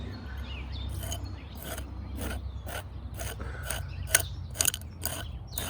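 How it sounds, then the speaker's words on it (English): A trowel scrapes through gravelly soil during a backyard archaeology cleaning pass, giving repeated short gritty strokes in a steady rhythm close by, with a few sharper scratches near the end and no talk. "You hear the gravel in there kind of kicking up."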